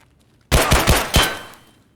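Gunfire in Escape From Tarkov as a player steps out to engage a raider: a loud, close burst of about four rapid shots that tails off into a fading echo, with no talk.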